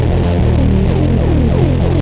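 A thick, gritty distorted acid Moog synth bass line pulses in fast repeating notes, loud and saturated, with a buzzing, throbbing edge throughout.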